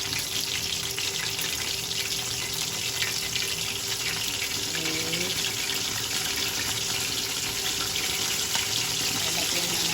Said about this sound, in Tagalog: Lagyan ko na rin ng sabaw.